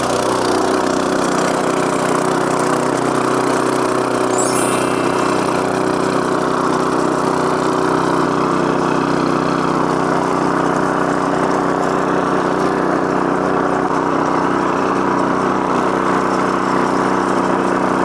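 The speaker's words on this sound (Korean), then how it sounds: "이것도 마찬가지로 악셀에다 위치를 중간쯤에 놓으시고, 시동을 걸어보겠습니다" A 6.5 hp four-stroke dual-shaft cultivator engine runs steadily at mid throttle, a loud, constant mechanical drone with an even idle-like hum and no talk over it.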